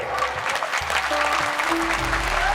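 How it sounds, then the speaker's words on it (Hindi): A large crowd at a Jan Andolan 2018 rally claps together in a continuous round of applause, with a low hum and faint tonal sounds beneath the clapping. "तालियों से"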